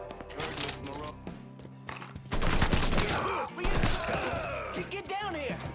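Bursts of gunfire in the Mafia III video game, sharp repeated shots and rattling volleys mixed with thuds, shouting voices and game music, loud and busy throughout.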